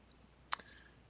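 A single crisp computer mouse click, a right-click on the Windows Start menu icon, sounds close and brief against near silence, with a faint softer click just after.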